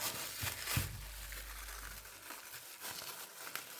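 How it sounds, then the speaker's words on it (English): Air dry clay is peeled out of its crinkly plastic wrapper, with close crackling and tearing at a fairly low level and a couple of sharper rustles and no voices. "I'm gonna unwrap it"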